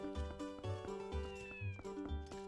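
A cat in the video game Zelda: Twilight Princess gives a short meow over a looping in-game musical background of repeating tones.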